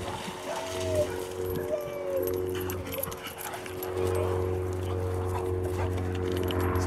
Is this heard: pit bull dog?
yes